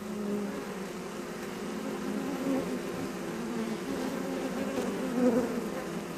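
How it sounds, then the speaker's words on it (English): Honeybees in a glass-paned observation hive hum in a dense, steady buzz, close and continuous at moderate loudness with no speech. "one can view the bees at work through the pane of glass"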